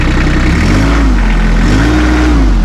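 A Massey Ferguson 1526 sub-compact tractor engine starts in neutral and runs loud and close in a steady rumble, its pitch rising and falling slightly as the auto throttle adjusts RPM.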